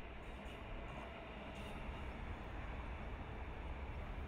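A Berlin S-Bahn commuter train rumbles loud and steady, a dense continuous rolling roar close by with faint rail clicks, no voices.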